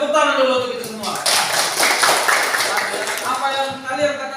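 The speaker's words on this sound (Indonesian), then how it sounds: "Tepuk tangan dulu untuk kita semua" Students in a classroom clap together briefly after a teacher's prompt, a short burst of hand claps between stretches of speech.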